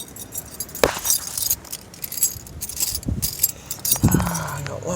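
Keys jangle with metallic clinks and rattles near a Cadillac Fleetwood Brougham on a cold, snowy night, a few sharp thumps mixed in over steady background noise.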